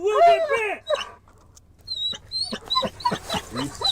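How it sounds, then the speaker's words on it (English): A police sheriff's K9 dog on scene whines, yips and barks in short bursts close by, mixed with shouting voices and rustling activity. "Sheriff's canine is on scene!"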